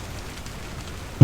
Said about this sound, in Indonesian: Ya, di luar udah basah, hujan.